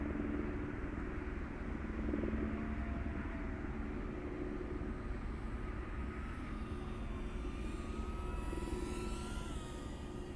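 An LDARC ET115 V2 FPV drone flies over a soccer field, giving a steady, continuous propeller buzz and whine with a faint shifting pitch, heard alone at moderate distance without any talking.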